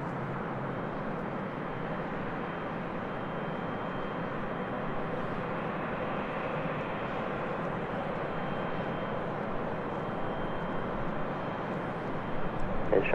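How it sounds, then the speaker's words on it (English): A British Airways Boeing 777-300ER departing runway 24 left, heard as a distant, steady jet engine roar that swells slightly near the end. "a British Airways 777 300 ER to be departing on 24 left"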